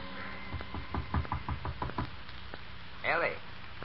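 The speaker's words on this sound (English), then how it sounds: "Her father knocks at the door." A series of sharp knocks on a wooden door, a radio-drama sound effect, come in an uneven rhythm of about a dozen raps, moderately loud and close, before a brief voice cuts in near the end.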